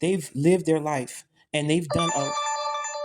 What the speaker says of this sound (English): that's my phone, y'all.